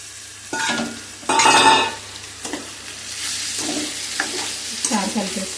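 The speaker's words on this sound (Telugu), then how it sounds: "ఒకసారి కలిపేసుకుందాం." Potato and brinjal curry is stirred and fried in a pan, with scraping spoon strokes in short bursts over a steady low sizzle, close by.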